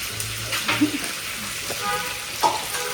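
Food sizzles and is stirred in a hot pan while mutton curry is sautéed with chopped tomatoes, a steady frying hiss broken by scraping stirs, close and fairly loud, with a voice talking faintly over it.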